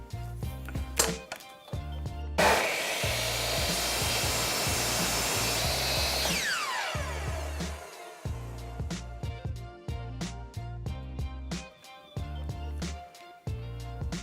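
A loud, steady whine of a power tool cutting a piece for a contact cement glue pot runs for several seconds, then winds down, surrounded by clicks and knocks of handling.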